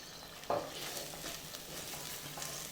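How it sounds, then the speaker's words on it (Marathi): Fried prawns stirred into a sizzling ghee masala for a Mangalorean ghee roast: a continuous frying hiss with a sharp utensil scrape near the start and softer stirring scrapes after, no voices. "आता याच्यामध्ये आपण आपण तळून घेतलेले जे प्रॉन्स होते ते घालून घेणार आहोत"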